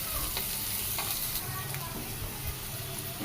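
Curry leaves and slit green chillies sautéing in hot oil for a crab roast, giving a steady, loud sizzle and crackle with occasional stirring scrapes.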